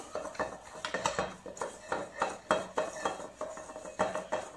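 Cannelé batter mixed in a pot, heard as rapid rhythmic clinking and scraping of a utensil against the metal, steady close strokes about twice per second with no voices.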